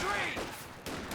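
LMG Grenadiers in the strategy game Company of Heroes 2 firing a rapid machine-gun burst in a crowded battle soundscape, loud and close, with a commentator talking over it.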